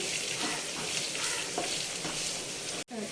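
Sliced onions sizzling and frying in a pan for a samosa filling, a steady loud crackle with occasional stirring scrapes and a brief break near the end.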